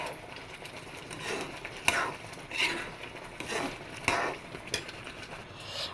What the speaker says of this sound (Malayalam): ഇതൊന്ന് ഇളക്കി കൊടുത്തുകൊണ്ടേയിരിക്കാം.